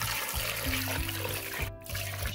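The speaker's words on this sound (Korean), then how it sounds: "달걀, 월계수잎, 소주 한 컵, 물을 잠기게끔 붓고" Water is poured into a pot holding chicken, eggs, bay leaves and a cup of soju, a close, steady trickling pour lasting a couple of seconds.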